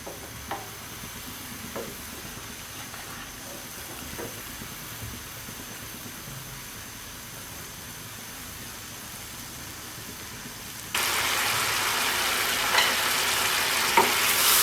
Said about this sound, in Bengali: মশলা এবং আনারস খুব ভালো করে কষিয়ে নিয়েছি